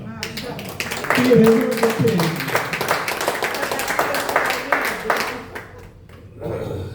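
An audience claps at a Hindi poetry gathering in New Delhi, a burst of rapid, overlapping hand claps that swells and then tapers off, with a voice speaking over and around it before a brief lull.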